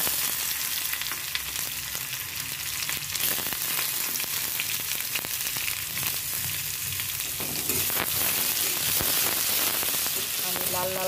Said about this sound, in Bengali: তো আমার মরিচটা হালকা ভাজা হয়ে যাচ্ছে।